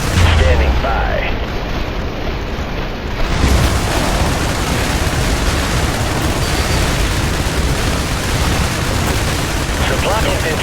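In the video game IS Defense, an airstrike brings a dense, continuous barrage of explosions and artillery-like blasts, loud and unbroken, with game voices speaking over it.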